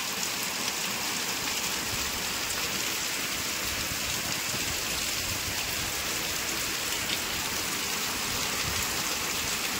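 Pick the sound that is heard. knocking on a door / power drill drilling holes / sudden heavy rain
sudden heavy rain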